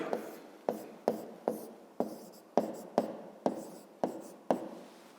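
Pen or pencil writing by hand on paper during a fifth-grade maths exercise, about ten quick scratchy strokes in a steady rhythm, close and fairly quiet, with no talking.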